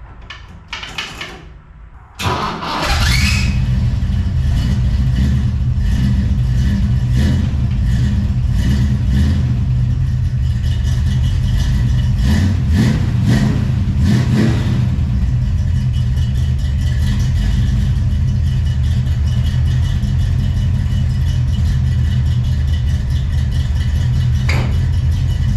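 A 1965 car engine cranks over roughly on the starter for a couple of seconds, then catches and runs steadily with a loud, continuous mid-pitched rumble close by, no talking over it.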